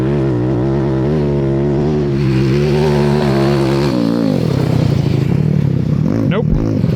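A 190cc shifter kart engine runs rough and misfires, its loud, uneven harmonic drone wavering and dropping out with sharp irregular pops before a quick rising rev near the end.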